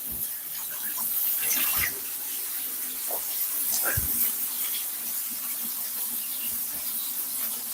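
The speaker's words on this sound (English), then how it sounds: "Just give my hand a bit of wash." Hands being washed under a running kitchen tap, a steady hiss of flowing water with splashes and brief knocks as the hands move in the stream, close and continuous.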